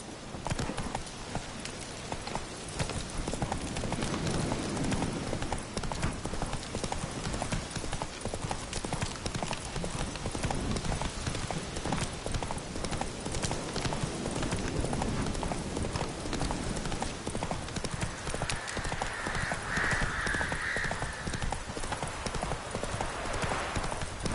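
The horse Roach trots in The Witcher 3 video game, its hooves clip-clopping in a steady, continuous rhythm, fairly loud and close, for the whole stretch.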